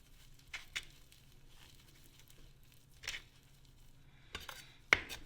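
A knife chopping fresh parsley finely on a cutting board for linguine with white clam sauce, a few soft, scattered taps spaced irregularly, with a sharper knock near the end.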